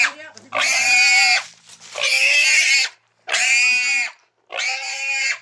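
A pig squealing loudly in four long, harsh, piercing bursts with brief gaps between them, close by.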